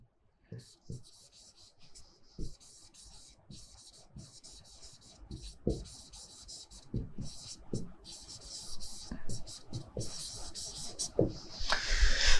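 Hand-writing an English term, the pen scratching out quick strokes in bursts that grow busier and louder toward the end.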